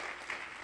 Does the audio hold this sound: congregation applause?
yes